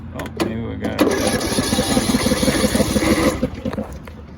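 A Craftsman lawn tractor engine cranks and catches, a steady mid-pitched running rumble settling in close and loud over a few seconds, with a person talking over it.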